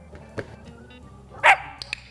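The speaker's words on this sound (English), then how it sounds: "Bark." A puppy in a training session barks once on command, a short sharp close bark in an otherwise quiet room, with a few soft clicks and rustles around it.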